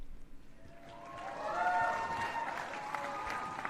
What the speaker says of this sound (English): I got the applause and everything.